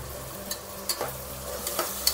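Hyacinth beans and cut beans fry in oil in a pan, with a soft sizzle under repeated scraping stirs of a spoon at a brisk, uneven rhythm.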